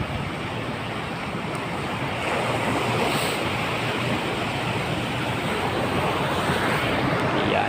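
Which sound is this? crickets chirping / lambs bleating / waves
waves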